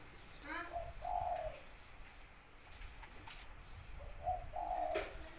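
Two short bursts of soft dove cooing, a few seconds apart, over low rumbling background noise.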